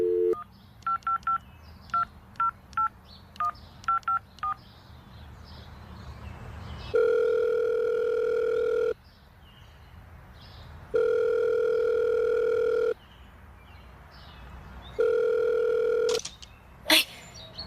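Payphone keypad tones beeping out a dialed number in quick bursts, followed by a steady ringback tone repeating in long, evenly spaced rings, loud and close with no talking.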